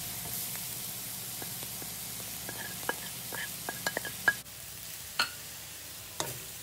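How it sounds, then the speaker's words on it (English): A spoon stirs food in a pan after sugar goes in, before spinach is added, making scattered scrapes and light taps over a soft, steady sizzle at close range. "And stir well."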